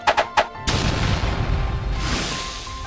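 An explosion sound effect in an animated fantasy battle story: three quick sharp cracks, then one loud close blast that rolls into a dense, rumbling roar fading over about two seconds.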